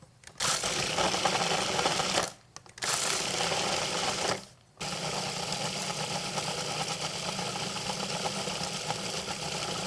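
Food processor pulsing cold cubed butter into a peach crumble topping, with several loud whirring bursts separated by short pauses, then a longer steady run near the microphone.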